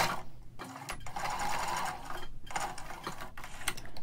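A sewing machine hems the freshly cut edge of a Burmese sarong (longyi), running in rapid close stitching bursts broken by a few short pauses.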